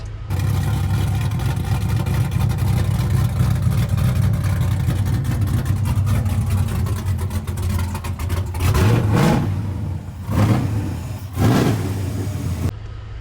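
A truck engine, a 416 with a big Motion camshaft, idles with a loping, choppy rumble, then two sharp revs rise and fall near the end.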